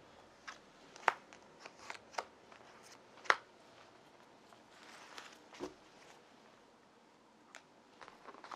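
Tarot cards are handled and shuffled in a quiet room, giving sparse soft rustles and a few crisp snaps at close range, with no voice.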